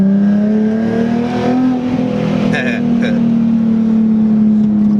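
A Nissan 370Z Nismo's VQ37 V6 drones loud and steady through its stock exhaust, holding a fairly even rev with slight swells, up close and continuous throughout.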